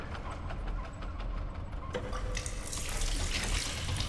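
Water running from a sink faucet in the video game Stasis, a steady continuous rush that grows brighter and louder about halfway through, with no talking.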